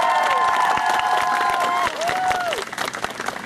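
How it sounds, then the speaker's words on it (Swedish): Audience applause and some cheering at a cosplay prize-award ceremony at a summer convention, a steady burst of clapping that thins toward the end while a high tonal sound glides through it. "En stor applåd!"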